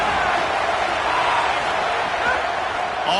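A football stadium crowd roars as a steady, dense wash of noise under a commentator's voice, with no breaks in the din.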